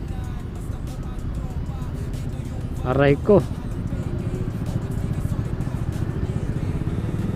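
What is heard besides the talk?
road traffic noise on a motorcycle ride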